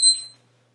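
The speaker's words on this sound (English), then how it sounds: "ooh, my timer went off" A timer alarm chimes once, a single bright electronic beep that quickly fades to silence, close and clear with nothing else around it.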